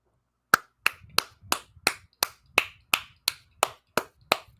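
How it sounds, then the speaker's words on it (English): A dozen sharp hand claps in steady, evenly spaced rhythm, close and crisp, with no other sound between them. "That deserves a Vice Golf clap and a Vice Golf logo from me."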